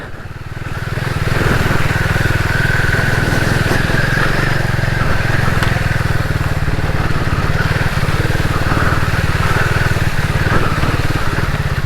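A Royal Enfield Himalayan 450 motorcycle rides through a wet stretch of UK trail, its steady engine drone loud and close throughout with a constant low thrum and no talk over it.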